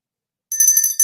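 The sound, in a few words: small gratitude bell ringing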